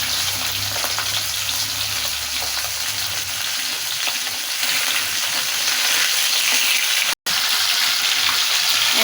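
Rohu fish heads fry in hot oil in a wok, giving a steady loud sizzle and crackle that runs unbroken throughout, with a faint low rumble early on.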